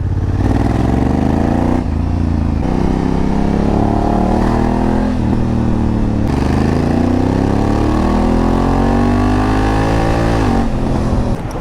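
A motorcycle engine drones steadily while riding, its pitch climbing through each gear and dipping sharply at several shifts before rising again, with constant wind rush throughout.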